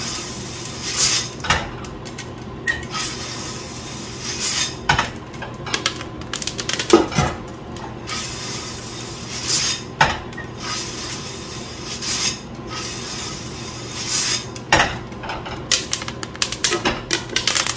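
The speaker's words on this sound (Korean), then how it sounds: "아직 1차 파핑이 활발합니다. 뻥뻥뻥 하죠." Irregular sharp pops and cracks from coffee beans in first crack during home roasting burst out every second or so over a constant mechanical whir.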